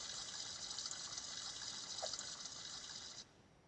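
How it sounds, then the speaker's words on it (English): Water runs steadily from a tap while hands are washed in the Roblox game Brookhaven, a continuous close gush that stops abruptly near the end. "Done washing my hands."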